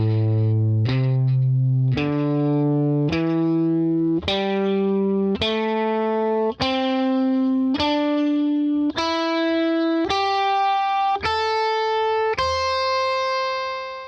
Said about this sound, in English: And that is the pentatonic scale in A.